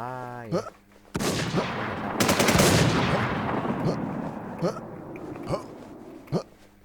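Gunfire in the PvP video game Warz: loud, close bursts of rapid automatic shots that trail off into scattered single shots, with a short voiced sound at the start.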